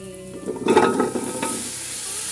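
Onions go into hot oil in a pan, a quick burst of close crackling and spattering that settles into a steady, quieter sizzle, with no speech.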